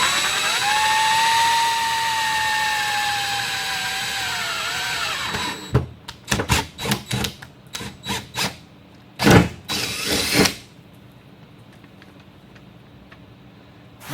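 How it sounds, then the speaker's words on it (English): A power drill boring holes into the fender of a fifth-generation Toyota 4Runner for a snorkel install: a steady high whine, then a run of short stuttering bursts as the bit bites into the body panel, close and loud. "let's drill some holes."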